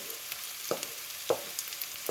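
Garlic sizzles quietly in a pan for a Filipino fish dish, a soft continuous frying crackle with a few sharper pops and stirring clicks at intervals.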